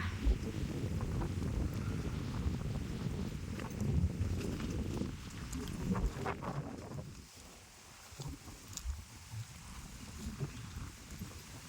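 Strong wind buffets a tent at a hilltop campsite, with rumbling gusts battering the microphone that ease off briefly midway before building again.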